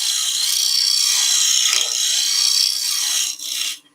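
A skew chisel cuts a lump away from a wooden hanging bauble spinning on a lathe, a close, continuous hissing scrape over the lathe's steady hum, breaking off briefly near the end before a final short cut.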